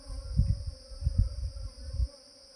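A honeybee swarm buzzes close by, low droning bursts rising and falling in several pulses under a steady faint background hum.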